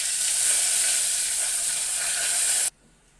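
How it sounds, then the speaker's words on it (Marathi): Whole spices sizzle in hot oil in a pan for a veg pulao, a loud, steady bright frying hiss that cuts off abruptly near the end. "आता मी याच्यामध्ये काही खडे मसाले घालणार आहे."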